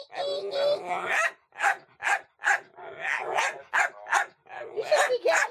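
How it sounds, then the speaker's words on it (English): A dog barks repeatedly at a squeaky toy, a series of close, sharp yapping barks with some whimpering and growly tones in an uneven rhythm. "So when he's barking at the squeaky toy, he's going."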